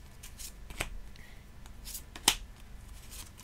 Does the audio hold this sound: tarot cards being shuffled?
yes